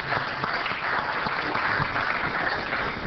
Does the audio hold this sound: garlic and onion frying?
no